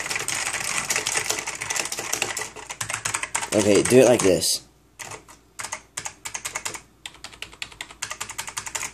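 Rapid clacking of a Rosewill RK-6000 mechanical keyboard's keys, dense and continuous at first, then in shorter separate bursts, with a brief spoken remark partway through.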